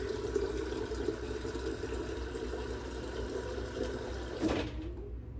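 Water pours steadily into a container with a continuous rushing flow, then cuts off near the end. Close and moderately loud, no voices.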